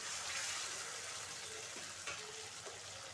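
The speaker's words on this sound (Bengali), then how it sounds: "আমি একটু জল দিয়ে দেবো, ভালো করে কষিয়ে নেব।" Ground cumin and coriander paste fries in a pan with a splash of water, giving a continuous close sizzle and bubbling hiss with no talking.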